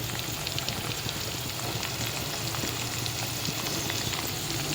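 Food fries vigorously in oil for a kaara kulambu, a dense and continuous crackling sizzle that stays close and loud throughout with no voices.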